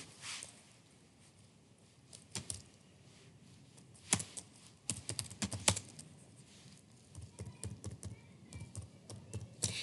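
Numbers are tapped out on a computer keyboard in a quiet room, with soft scattered keystrokes coming in short irregular bursts, faint and close, with no voices.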